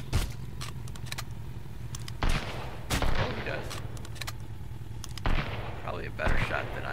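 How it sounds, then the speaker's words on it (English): Gunfire from an enemy at an iron skull base in the survival game Sunkenland, several sharp shots scattered irregularly over a steady low background hum, moderately loud. "he looks like he's got a gun"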